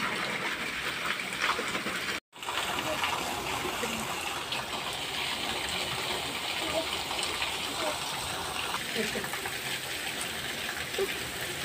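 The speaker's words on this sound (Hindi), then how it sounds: "हमारी नाली भी जो है ना फुल भर के जा रही है, वो देखेंगे फुल भरी हुई, इतनी तेज़ बारिश है" Heavy rain sends water rushing through an overflowing drain, a continuous broadband gush and patter heard up close with a brief dropout early on.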